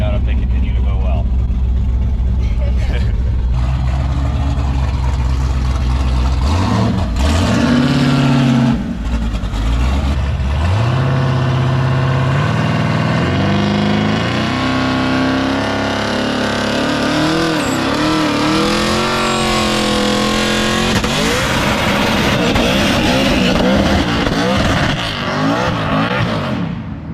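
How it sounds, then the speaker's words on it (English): A twin-turbo LSX-engined Cadillac Escalade revs up and holds a long, loud burnout, its engine note climbing and wavering over tire roar for the full stretch, with voices heard over it. "we're gonna do a burnout and find out if they continue to go well"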